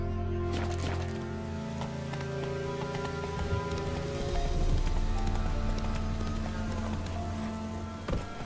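A horse galloping in The Witcher 3 video game, a steady rhythmic clip-clop of hooves with a faint neigh, heard over a constant game ambience and a low hum.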